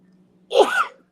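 A single sneeze-like burst, sharp and close, that rises suddenly and holds briefly before cutting off to near silence, over a faint low hum.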